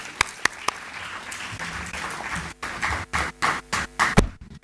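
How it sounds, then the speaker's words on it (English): An audience at the India Sustainability Startathon 2025 grand finale at Mount Carmel College gives scattered applause, a few sharp isolated claps followed by a rising patter of hand claps that breaks into short bursts. "let's put our hands together and give a warm round of applause to Dr. Shanti Srinivasan."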